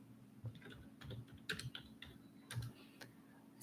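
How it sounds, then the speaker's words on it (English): Quiet clicks of typing on a computer keyboard come in sparse, irregular taps, soft and close over a low background hum. "first we'll go to browser and type here"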